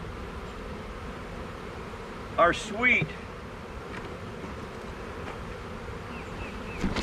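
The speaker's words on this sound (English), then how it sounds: "Look at the amount of bees, guys, in this flipping hive" A crowded honey bee hive hums with a steady, low insect drone throughout, with a brief louder buzzing burst near the middle as bees pass close; a few spoken words come faintly over the hum.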